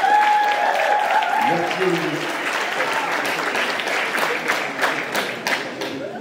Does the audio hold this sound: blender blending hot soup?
no